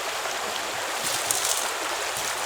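Stream water flows steadily beside a gold panning setup with a flow pan and concentrate box, a continuous broadband rush with no speech over it.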